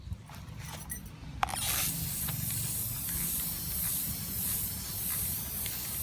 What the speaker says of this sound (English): So I'm just going to spray paint them in oil rubbed bronze.